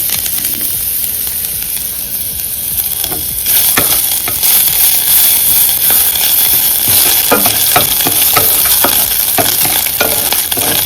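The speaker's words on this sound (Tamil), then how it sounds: "பருப்பு நல்லா ஃப்ரை ஆயிடுச்சு." Steady crackling sizzle of lentils and grated ginger frying in hot oil, with scraping stirring strokes growing busier partway through, close and loud.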